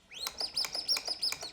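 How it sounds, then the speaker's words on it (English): A mechanical automaton toy produces bright, rapid bird chirps in a quick repeating sequence, close and clear against quiet. "The birds."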